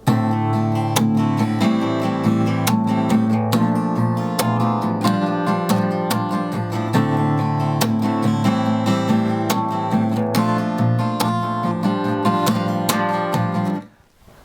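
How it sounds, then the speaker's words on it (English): An acoustic guitar plays a steady strummed rhythm with a percussive palm slap landing on beat three, close and loud, repeating evenly until it stops near the end. "as you go down, and you get this nice kind of slap sound like this."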